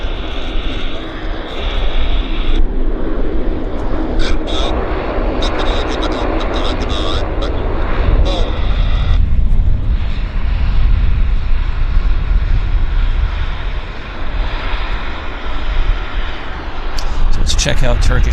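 Airliner jet engines idling at Vancouver airport after an arrival, a loud steady roar that fills the whole stretch with a constant broadband rumble and a slight dip in the middle, heard close and alone.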